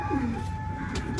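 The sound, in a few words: Madrasi pigeons cooing in a pigeon loft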